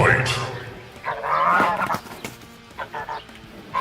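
Geese honk in short, harsh bursts amid farmyard bustle, with a voice speaking over them.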